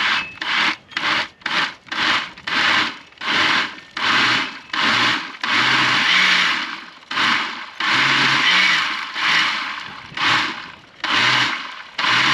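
Peeled poblanos and tomatillos are pulsed in a blender for chili verde salsa: a loud chopping whir in short bursts, quick at first, then a longer run followed by more pulses.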